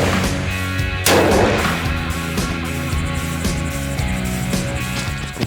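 Rifle shots fired outdoors on a hunt with SAKO Powerhead Blade lead-free ammunition, a loud sharp report followed by a long rolling echo over a steady noisy background.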